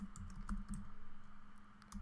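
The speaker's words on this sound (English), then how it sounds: "excuse my slow computer and slow typing" Laptop keys tap quietly and unevenly, with slow typing in short clusters of faint clicks against a low steady hum.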